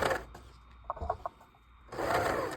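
A serger sewing machine stitches and trims fabric edges in two short whirring bursts, one at the start and a longer one at the end, with soft mechanical clicks and taps in the quieter gap between them.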